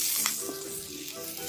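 Ginger, scallion and garlic hit hot oil in a wok and sizzle loudly as they are stir-fried, with a constant crackling hiss and faint utensil scrapes up close.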